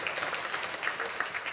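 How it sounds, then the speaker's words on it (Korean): Welcoming applause from a church congregation during a Sunday worship service, a brief burst of many hands clapping in a hall, moderately loud and dense. "우리 환영의 박수 한번 하겠습니다"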